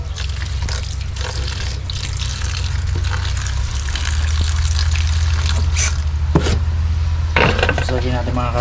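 Running water splashing and trickling steadily while vegetables are rinsed, with clinks of dishes and utensils and brief talk mixed in, close and fairly loud.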